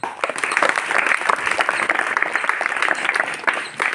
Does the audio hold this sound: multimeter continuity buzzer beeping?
no